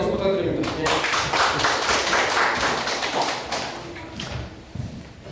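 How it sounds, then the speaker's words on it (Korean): An audience at a Busan disaster-safety talk concert applauds a presenter, a dense burst of clapping lasting a few seconds before it fades, with a voice speaking over it. "다시 한번 감사의 박수 부탁드립니다"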